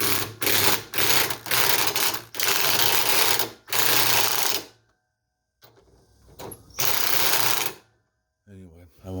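Lightweight impact driver removing 13mm bolts during a spider gear replacement on a Samsung front-loading washing machine: loud, close hammering bursts, a few short ones, then longer sustained runs separated by brief quiet gaps.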